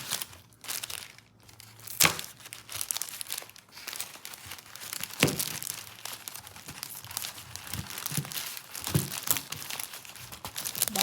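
Scissors snip through thick artificial flower stems being trimmed for a craft top, giving crisp crunching and crinkling cuts in irregular bursts, close and fairly quiet, with no talking.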